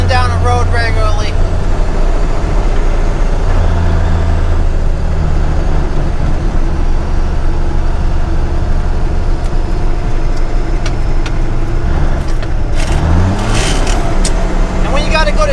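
A 10-wheeler dump truck's engine drones steadily while cruising down a road in higher gears, loud and constant throughout, with a voice talking over it.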